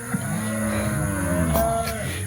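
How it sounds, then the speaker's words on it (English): Cattle low at an auction-day pen, a loud, sustained bovine moo with rich harmonic layers overlapping close by, other animals adding calls in the background. "here is where we bunch up the cattle"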